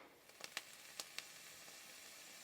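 Faint crackling sizzle from a stainless steel 22-gauge flatwire vape coil build, a few short bright pops and hisses over a low steady hiss, quiet and close.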